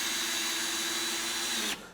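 A Ryobi cordless drill driver set to drill mode with the clutch ring removed drives a screw, giving a steady, loud motor whine that runs continuously, then stops abruptly near the end.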